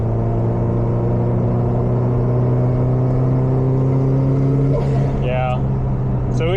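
A Subaru STI's engine with a slow-spooling turbo hums loudly and steadily as the revs climb past 3,000 RPM, a droning in-cabin tone, with someone talking briefly near the end.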